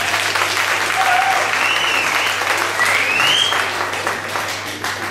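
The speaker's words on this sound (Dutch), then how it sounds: "Graag een applaus voor Hanne de Knop en Joyce van der Bocht" Audience applause for two young drummers about to play a drum battle at a student concert, a loud, dense, sustained clapping that lasts the whole stretch and tapers slightly toward the end, with a few whistles rising above it.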